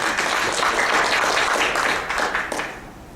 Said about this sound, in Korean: 박수 다시 한번 주십시오